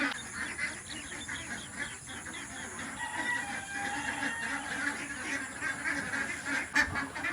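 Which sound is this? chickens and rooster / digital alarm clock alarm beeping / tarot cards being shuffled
chickens and rooster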